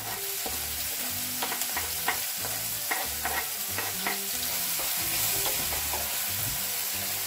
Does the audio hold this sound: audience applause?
no